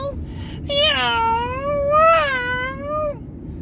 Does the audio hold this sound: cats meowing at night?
yes